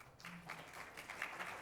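Audience applause at a 2017 League of Women Voters debate: a faint, steady wash of many hands clapping, held at an even level throughout with no voices over it.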